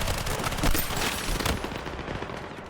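SMG fire in the video game Battlefield 6, a dense continuous rattle of rapid automatic shots mixed with loud battlefield noise, sustained throughout without speech.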